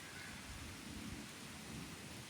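Rain falling outdoors during a river fishing trip, a faint, dense and steady hiss of downpour with no voices.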